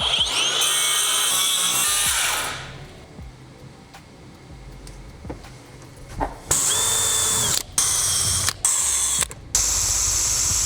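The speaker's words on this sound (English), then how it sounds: "once I drill the holes on the ceiling, those that I now drilled align" A power drill runs close up while drilling holes for a camper van ceiling. A long loud whine trails off, followed by quiet handling noises, then several short, loud bursts of drilling with brief gaps between them.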